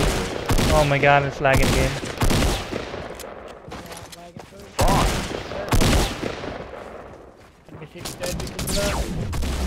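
Video game gunfire crackles in quick bursts and single shots, loud and close, mixed in with excited talking from a player throughout.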